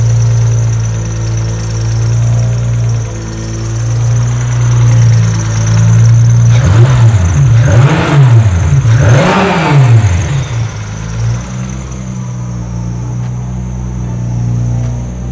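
A Mitsubishi GTO with a big single-turbo build runs on an early startup tune. It idles rough and loud up close, then blips through several sharp revs in the middle before settling back to idle.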